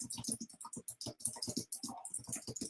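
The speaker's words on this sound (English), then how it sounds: "I'm going to type them out" Fingers tap rapidly on a computer keyboard, a quick, close run of light clicking keystrokes with brief pauses, soft overall and with no voices.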